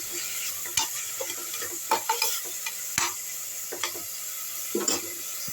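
Masala with turmeric powder is stirred and fried in a pan. Sharp spoon scrapes and knocks come every second or so over a constant bright sizzle, close and fairly loud, with no talking.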